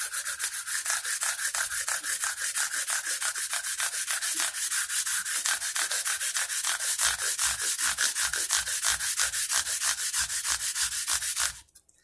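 A fret leveler rubs back and forth across banjo frets in steady, close, even rasping strokes, about four per second, continuing without pause until the sound stops abruptly at the end.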